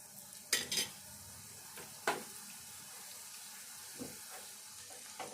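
Fried bitter gourd pieces are tipped into a pan of frying spices and stirred, giving a few sharp scraping and clattering stirs over a soft, steady sizzle at close range.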